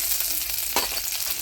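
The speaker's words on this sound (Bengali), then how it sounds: "কিশমিশ আর কাজুগুলোকে একটু ভেজে নিই।" Cashews and raisins fry in hot oil in a pan for basanti pulao, giving a steady, close sizzle with a brief stirring scrape midway and no talk.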